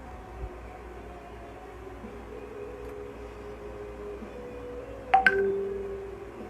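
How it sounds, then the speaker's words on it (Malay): A WhatsApp notification on a phone: two quick bright tonal chimes ring out once near the end over quiet room tone, close and clear, with no speech. "Bunyi WhatsApp."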